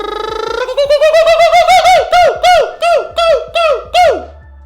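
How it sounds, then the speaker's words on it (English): An Australian kookaburra, the largest kingfisher, gives a loud, close call that starts as a rising trill and breaks into a fast series of repeated hooting, laughing notes that speed up and then stop. "The kookaburra is a member of the kingfisher family found in Australia."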